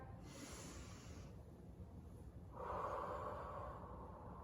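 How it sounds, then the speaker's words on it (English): During a Pilates exercise, a slow breath is drawn in through the nose as a soft airy hiss, then let out through the mouth as a stronger, rougher exhale, close and quiet. "inhaling through the nose, exhaling through the mouth to slowly lower"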